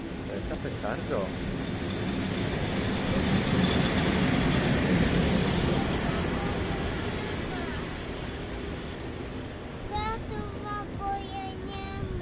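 An ET22 light locomotive running without wagons rumbles steadily past at a station in Gdańsk, a broad roar that swells and fades, with faint squealing tones near the end and voices talking over it.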